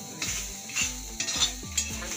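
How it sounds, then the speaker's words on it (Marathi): Ground masala paste roasting in a pan for a Malvani-style egg curry, with a soft steady sizzle and repeated scraping stirs of a spoon against the pan at a regular rhythm. "वाटप भाजून घ्यायचा। व्यवस्थित भाजा घालतो।"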